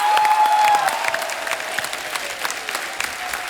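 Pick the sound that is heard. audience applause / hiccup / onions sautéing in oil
audience applause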